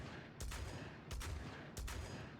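Super 90 shotgun in Rainbow Six Siege, fired three times at an even pace, each blast sharp and loud over a steady background hum.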